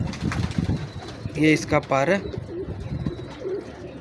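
A pigeon of a breeder's pedigree stock gives a few soft, close coos in short bursts amid quiet surroundings, with someone talking between and around the calls.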